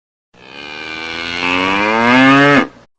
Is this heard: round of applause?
no